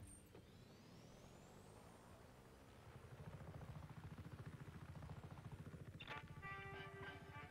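Helicopter in the video game Just Cause 3, a steady engine drone that becomes a louder, rhythmic rotor chop about halfway through, with a few bright mechanical tones near the end and no talking.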